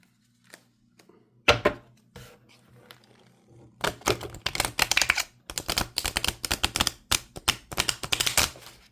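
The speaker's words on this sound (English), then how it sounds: "let me see if I can shuffle it" Close-up shuffling of a stiff tarot deck: sharp papery slaps and riffles in quick bursts, pausing briefly between passes.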